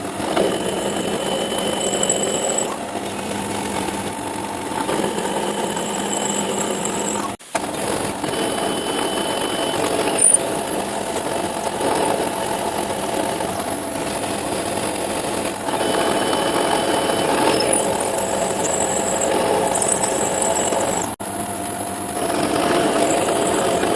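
A CNC mill cuts spark plug cap mold core slugs, giving a steady mechanical hum and whine with faint high tones and a couple of sharp clicks, continuous and fairly close.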